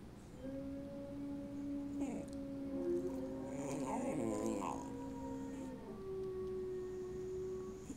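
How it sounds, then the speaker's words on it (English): A gray wolf howl plays from a phone's voice assistant, a long wavering tone with a second voice layered in, heard moderately close amid room noise and some overlapping chatter. "The gray wolf sounds like this."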